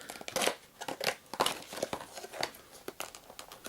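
Scissors snipping and crinkling through the thin wrapper of a Star Wars: Imperial Assault card pack, a run of close, quick papery cuts and rustles with no talking.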